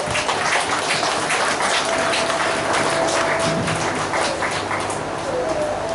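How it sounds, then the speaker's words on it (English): An audience applauding at a Hindu religious gathering at night, dense continuous clapping at steady loudness for the full stretch, with faint voices mixed in. "Give them a round of applause."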